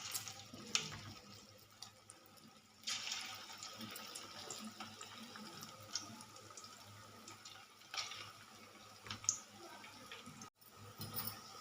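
Sweet corn pakodi fry in hot oil, a steady broadband sizzle and bubbling that runs throughout, with small spatters and brief louder bursts, close by with no talking.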